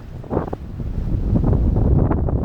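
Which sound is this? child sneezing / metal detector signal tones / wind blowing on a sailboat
wind blowing on a sailboat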